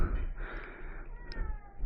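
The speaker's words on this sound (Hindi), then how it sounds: "देखो इस बिल्ली को," A stray cat meows softly in a single drawn-out call, faint and close, over a low background hum.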